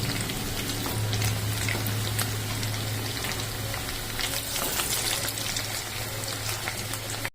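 Paneer pieces frying in hot oil in a pan make a steady, dense sizzle throughout, close and constant with a faint low hum beneath and no talk.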